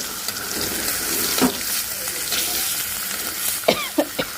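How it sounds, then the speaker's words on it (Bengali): Fish frying in hot oil in a home kitchen: a steady, close sizzle throughout, with a few sharp spatters and clinks from stirring near the end. "তো মাছটা ভাজা হোক"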